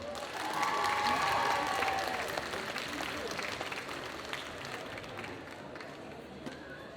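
Audience applause at a cosplay parade at the Carolo Game Show 2022, a dense wash of clapping that swells loud in the first two seconds, then continues steadily with crowd noise throughout.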